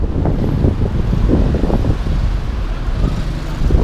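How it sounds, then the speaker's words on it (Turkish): Strong wind buffets the microphone outdoors in İzmir, a steady loud roar with gusty low rumbling and no speech. "Bir de bayağı bir rüzgar da geliyor."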